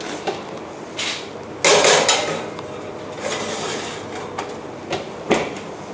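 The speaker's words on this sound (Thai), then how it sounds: "เราก็จะนำมัฟฟินเข้าเตาอบกันเลยค่ะ" Oven door and racks clank and bang as a tray of blueberry muffins is slid inside, several sharp metallic knocks and scrapes separated by quiet pauses.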